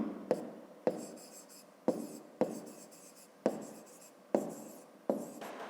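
Pen strokes scratch across notebook paper in a quiet room, each word a short burst of scribbling with brief pauses between, about seven strokes in a row, close and moderately soft.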